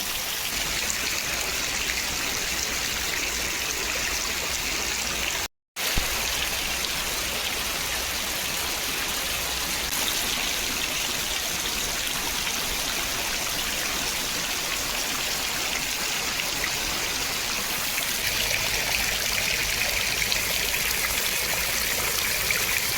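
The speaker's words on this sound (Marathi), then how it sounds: "दोन दिवस झालेत लगातार पाऊस चालूच आहे म्हणजे दिवस रात्र चालूच आहे" Heavy, continuous monsoon rain that has fallen for two days and flooded the rice paddies pours down as a loud, unbroken wash of noise. It is cut off by a brief silent gap early on, with no voices.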